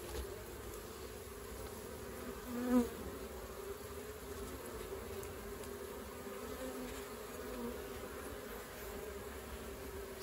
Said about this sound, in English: this is a pretty well populated mini, but it's probably only just enough bees to populate these three frames of brood